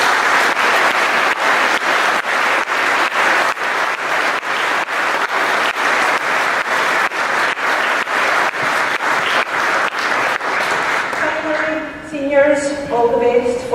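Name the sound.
applause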